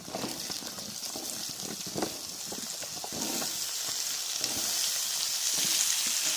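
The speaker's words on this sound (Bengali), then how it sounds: "ওর মধ্যে পেঁয়াজ দিলাম আমি পেঁয়াজটা দিয়েছি নিয়ে নাড়তে থাকবো এবার ওর মধ্যে কেটে রাখা আলুগুলোকেও দিয়ে দিলাম" Onions and potatoes frying in a pan give off a bright, steady sizzle that grows louder and denser over time, with soft stirring scrapes early on and no voices.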